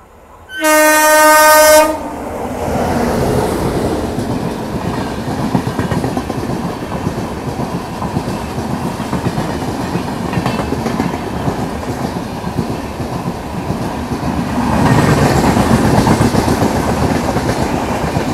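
Mandovi Express pulling into Kankavli station: a loud, sustained horn blast opens, then gives way to a steady rumble and rattle of coaches rolling past at close range, swelling again near the end.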